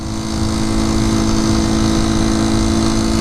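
A 1973 Honda C90 motorcycle engine climbs uphill in a steady, loud, close drone that holds at a constant pitch with no talking, the note of a small single under sustained load.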